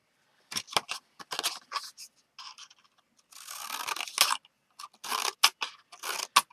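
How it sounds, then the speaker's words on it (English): Heavy-duty shredder scissors cut paper in a series of quick, crisp snips and crunchy slicing bursts. The cuts come up close and are separated by short pauses. "this is pretty much the same concept as the Martha Stewart scissors, so let's try it"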